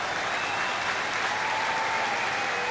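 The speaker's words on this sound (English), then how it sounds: "I'm sure you can tell from the crowd reaction" A rugby stadium crowd at a Munster versus Ulster match breaks into loud, sustained applause after a turnover, a dense wash of clapping that fills the stretch.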